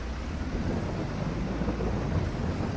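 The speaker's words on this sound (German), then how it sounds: "Und es regnet." Rain and rumbling thunder in the video game Farming Simulator 22, a dense, steady downpour with a low continuous roll of thunder underneath, heard alone without talk.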